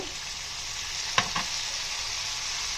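Tomato pieces and turmeric sizzling in a hot pan, a steady bright hiss broken by two quick clinks of a utensil midway, with nobody speaking.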